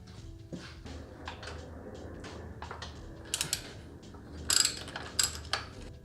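Ratchet wrench loosening 14mm bolts on a Toyota MR2 axle mount, quiet rapid clicking of the pawl in short bursts, with a few louder metallic clinks near the end.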